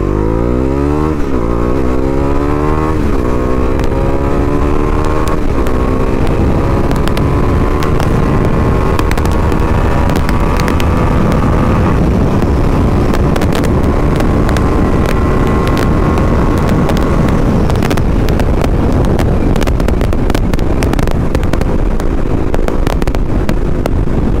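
A Bajaj Dominar 400 motorcycle accelerates hard on a highway, its engine note climbing through several gears with rising whine and heavy wind rush, loud and close throughout.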